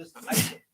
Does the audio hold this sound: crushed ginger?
no